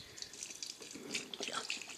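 Liquid sloshes and splashes faintly as a bottle of homemade bleach is shaken, with light wet drips and swishes in short bursts in a quiet room.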